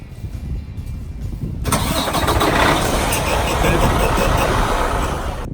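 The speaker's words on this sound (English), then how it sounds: "the truck will remote start" A 2019 Freightliner Cascadia diesel truck engine cranks and starts up remotely, settling into a loud, steady rumbling idle that continues to the end.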